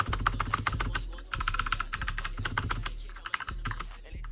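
Rapid keystrokes on a Royal Kludge RK61 keyboard modded with wet tissue paper, a close, steady run of soft clacks with a brief pause partway through and a low hum underneath.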